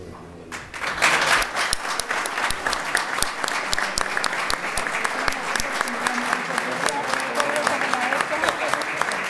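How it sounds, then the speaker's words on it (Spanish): Audience applause at an award ceremony where a man receives the Procesionista del Año 2022 insignia. Dense, steady clapping from a large crowd starts within the first second and carries on evenly to the end. "Aplausos."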